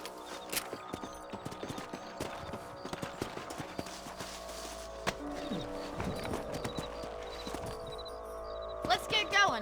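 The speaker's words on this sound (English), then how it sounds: "Let's get back on the horses and see what else is going on." Horses trotting in the Red Dead Redemption video game, with a steady clip-clop of hooves throughout, an occasional whinny, and game ambience and talking over the top.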